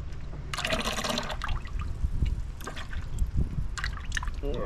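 Liquid mortar additive pours from a bottle into a mixing container, a steady trickling splash up close lasting a couple of seconds with a few later drips, alone with no talk.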